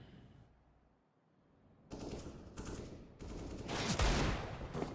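Counter-Strike gunfire on the Nuke map during a competitive match: quiet ambience, then bursts of rapid automatic fire around two seconds in, growing denser and louder toward the end.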